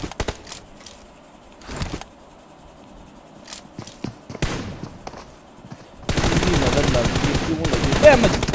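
Gunfire in a shooting video game: scattered single shots and short bursts early on, then a dense sustained volley of rapid automatic fire in the final seconds, loud and close.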